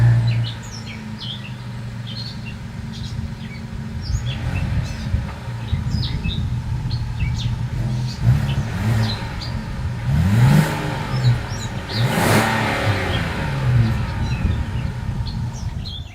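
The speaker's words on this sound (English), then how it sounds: "As always, here is that exhaust clip." A 2022 Kia Carnival minivan's engine and exhaust idle steadily outdoors, with a couple of louder revs swelling midway, while birds chirp faintly in the background.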